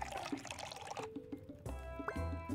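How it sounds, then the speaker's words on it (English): A drink being poured at the bar in the video game Magic Inn, a short liquid pour and trickle with game sound effects and chimes around it. "Pour a drink like nobody else."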